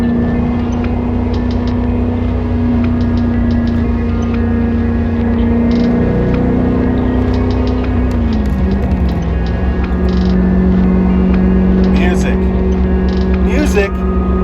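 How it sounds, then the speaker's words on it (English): A 1990 Corvette ZR-1 quad-cam V8 runs at a steady drone near 3,100 rpm, its pitch sagging and settling partway through, with a person talking over the engine throughout. "Maserati good V8 sound with its quad cam goodness."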